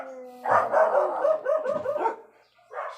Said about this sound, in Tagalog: Napakaingay ng mga aso.